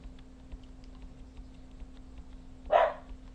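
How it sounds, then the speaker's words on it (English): A dog gives one short, sharp bark somewhere in the background of a quiet room, set against a steady low hum and faint ticking. "sorry about the dogs"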